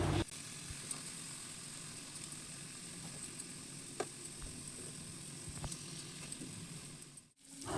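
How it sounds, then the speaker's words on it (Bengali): Chicken tikka pieces crisp up in a pan, a quiet, even sizzle holding steady throughout with occasional faint ticks and clicks, then a brief drop near the end. "দেখো আরও ভালোভাবে খড়া খড়া করে ভাজা হয়ে যাচ্ছে"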